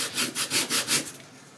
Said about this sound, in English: sanding stick